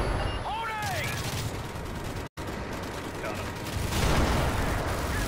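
A tank fires in Call of Duty MW3 amid steady battlefield gunfire and explosions, loud and dense, with a brief cut partway through.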